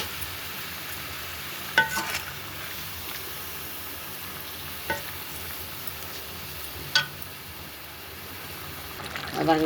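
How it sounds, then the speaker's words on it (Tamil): Quail gravy with salted water boils in a pot, a steady low bubbling simmer with a few sharp clinks or stirs standing out, no voices over it. "பாருங்கள், நல்லா கொதிக்குது"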